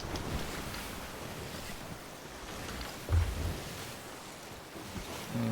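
Stormy open sea in Sea of Thieves, with a steady rush of wind and waves washing around a sailing ship and a brief heavier surge midway, no voices.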